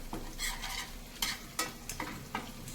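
Spices stirred into dill khichdi in a cooking pot, a few short scraping spoon strokes over a low, faint background hiss.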